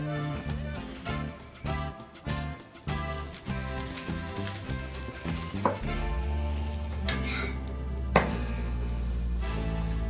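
Aloo paratha frying in groundnut oil on a pan, a loud, dense, continuous sizzle and crackle up close, with a few sharp bumps as it is handled, no talk.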